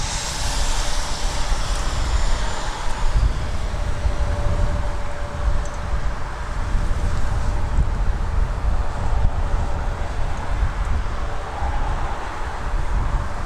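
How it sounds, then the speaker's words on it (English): An Embraer 195 E2 airliner, Porter flight 665, runs its engines at Toronto Pearson Airport, a loud, steady, broad jet roar with a faint whine, mixed with wind buffeting the microphone. "Porter 665 to Los Angeles, Embraer 195 E2."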